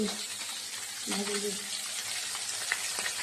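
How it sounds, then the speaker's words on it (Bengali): Fish fries in a pan with a continuous, close sizzle and crackle, joined by a brief faint voice in the background. "কি মাছ ভাজছো নাকি? হ্যাঁ রে, মাছ ভাজি।"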